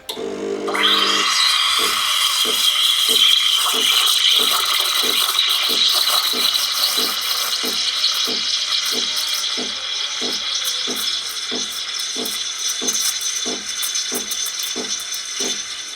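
Steam wand of a Latina Altro V2 espresso machine bursts on with a sudden loud hiss that keeps roaring steadily, with a regular ticking rattle pulsing underneath throughout, while someone talks quietly.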